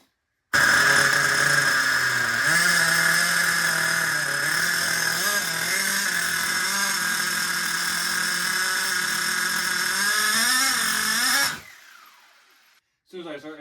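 A seized nitro-powered RC car engine revs with a high, buzzing whine, rising and wavering in pitch for about eleven seconds before cutting out abruptly; a brief burst follows near the end.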